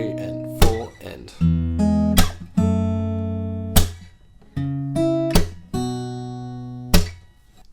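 A guitar riff from Hailee Steinfeld and Zedd's "Starving", strummed chords punctuated by sharp percussive slaps at a steady rhythm, each chord ringing briefly before the next hit.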